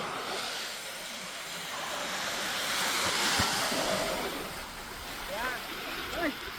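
Ocean waves wash in steadily at Kaup Beach, a broad, continuous surf roar with gentle swells and a few faint distant calls over the wash.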